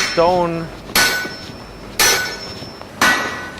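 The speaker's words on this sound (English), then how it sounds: "stone hammer being used to shape metal or hot ore" A stone hammer strikes metal or hot ore three times, about one second apart. Each blow is a sharp, ringing clang, and a brief whining tone comes before the first strike.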